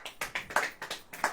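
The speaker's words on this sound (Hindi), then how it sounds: "ताली बजाओ।" Hands clap in a steady, rhythmic beat, roughly five claps per second, from a congregation at a church worship service. The claps are crisp and moderately loud, with no talking over them.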